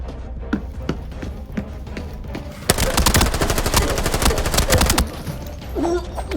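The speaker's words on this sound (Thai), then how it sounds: "เป็นปืนเก็บเสียงลั่นเร็วอยู่พอสมควรนะ คิดเดาว่าน่าจะเป็นปืน M4A1 ครับ" A rapid burst of suppressed M4A1 rifle fire in Arena Breakout Infinite rattles for about two seconds between quieter stretches of game ambience.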